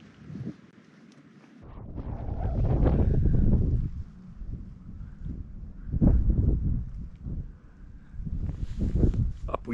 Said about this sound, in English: Winds are whipping good today.